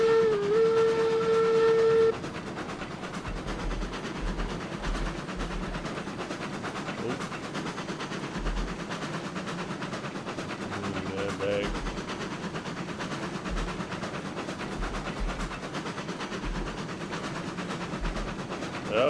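Eureka, a steam locomotive in the train game Railroads Online, opens with a sustained whistle blast, then chuffs and rumbles steadily along with a rhythmic low beat of the wheels and exhaust.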